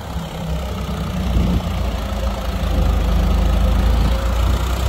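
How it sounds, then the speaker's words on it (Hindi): A new Swaraj 4x4 tractor engine runs steadily throughout, a loud, continuous low rumble at a constant idle-like pitch with no talking. "चल रहा है देखो ट्रैक्टर।"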